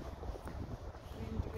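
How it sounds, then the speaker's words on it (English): Strong wind buffets outdoors in a small town in winter, a low rumbling roar of gusts against the microphone, steady and close throughout the short moment. "Very much wind."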